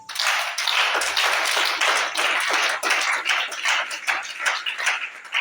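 A church congregation clapping together in a steady, rhythmic beat, dense and fairly close, continuing throughout without speech.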